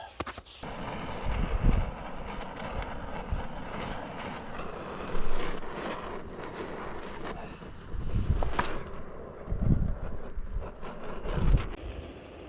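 Wind at a winter campsite, gusting against the microphone in rough, rumbling swells that rise and fall several times over a low, steady background roar.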